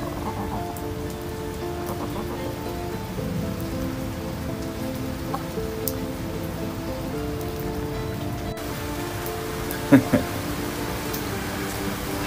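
Rain from a typhoon pours down in an even, steady wash near a backyard chicken coop, with a couple of faint knocks breaking through toward the end.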